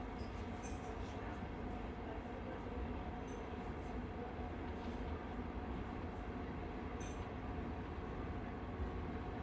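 A stationary train in the Alps on a cold night, its steady low rumble and hum filling the space continuously, with faint metallic ticks and hisses above, no talking.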